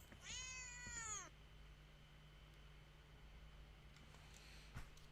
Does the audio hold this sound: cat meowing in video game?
yes